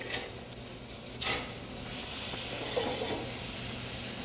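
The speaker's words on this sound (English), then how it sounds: "Another mirepoix goes right in there, straight in there. Mirepoix, onions, celery, and carrots. And we want to caramelize this a little bit." Onions, celery and carrots for an ossobuco braise sizzle steadily in a hot pan as they caramelize, a continuous close frying hiss that swells slightly partway through, with a brief stirring scrape near the start.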